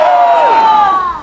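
A crowd at a Revolutionary War reenactment gives a loud, sustained cheer of many voices together, close and strong, then fades at the end.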